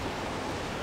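Surf washes onto a beach in Side, Turkey, as a steady, broad hiss of breaking waves that fills a short moment without any voices.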